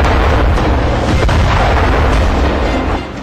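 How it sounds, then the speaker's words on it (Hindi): A heavy missile strike explosion on an army post in Nowshera district, Jammu and Kashmir, a loud sustained roaring blast with deep rumble filling the whole moment, no voices. "यमराज बनकर दूसरी मिसाइल टारगेट पर धावा बोल देती है।"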